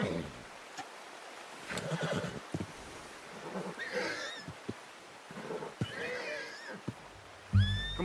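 A horse in Red Dead Redemption 2 neighs several times in rising, shaky whinnies, interspersed with snorts and hoof thuds, fairly close against quiet game ambience.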